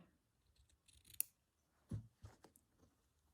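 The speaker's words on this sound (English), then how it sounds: "I'll just cut it there." Scissors cut through paper in a few quiet, sparse snips and a short cutting stroke, close by in an otherwise silent room.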